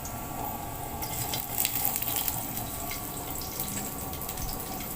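Onions frying in a pan over a used-oil burner stove, a steady crackling sizzle with brief bursts of sputtering, fairly close.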